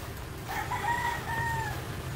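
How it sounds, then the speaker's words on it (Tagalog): Backyard chickens kept at a fresh new coop site with a well, a rooster crowing clearly once over low clucking and farmyard ambience. "preskong-presko pa rin yung ating mga alagang manok"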